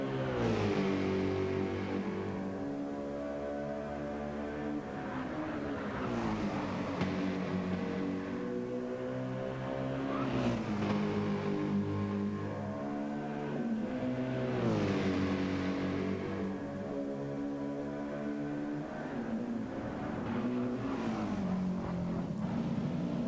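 A race car engine in a sim racing video game revs up and down continuously through gear changes, loud and close, rising and falling with each corner.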